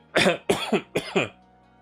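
Three quick, close coughs, the middle one a double burst, with nothing else around them.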